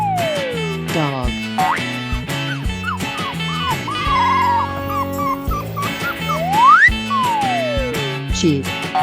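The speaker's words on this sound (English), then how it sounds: "Sheep." Cartoonish sheep bleats ring out among playful game music in a 3D animal slide video game, with sliding boing-like tones and bright melodic sound effects throughout.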